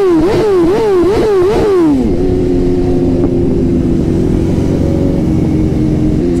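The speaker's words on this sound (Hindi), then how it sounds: "सो जी 911 करेरा एस जा रही है मेरे आगे से" A Porsche 911 Carrera S drives past on a road, its engine note rising and falling through several quick revs before settling into a steady, loud drone as it moves by close.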